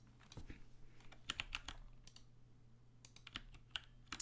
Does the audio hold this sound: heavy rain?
no